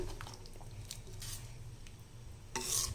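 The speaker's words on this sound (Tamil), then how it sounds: "அதை வந்து இதில் ஊற்றிடலாம். ஊற்றிட்டு இதை நல்லா கலக்கி விட்டுடலாம்." Tamarind water being stirred into brinjal and cowpea kulambu in a cooking pot, giving soft, low scraping and sloshing with a light clink near the end, close and fairly quiet throughout.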